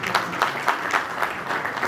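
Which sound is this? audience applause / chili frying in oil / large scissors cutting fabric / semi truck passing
audience applause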